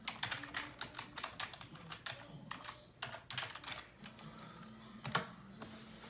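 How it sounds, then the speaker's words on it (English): Rapid, irregular clatter of keys being struck on a computer keyboard, close and fairly quiet, in short bursts with brief pauses. "I think I typed that in wrong."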